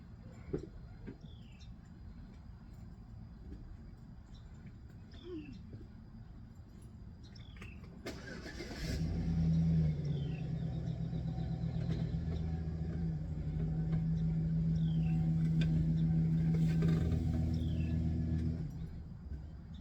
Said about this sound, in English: Maybe I ought to drive forward a little bit.